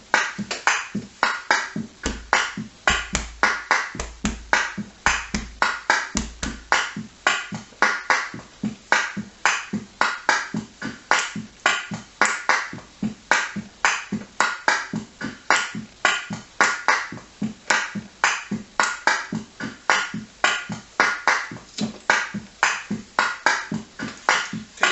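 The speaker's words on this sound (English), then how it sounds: "So you can find a nice deep sound on your chest next." Rapid rhythmic patting on a chest, producing dense, dull thumps in a fast continuous pattern for the whole stretch, close up and with no voices.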